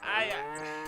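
A single drawn-out cow moo from the video game King's Quest V, loud and close, with a rising then steady tone lasting about a second.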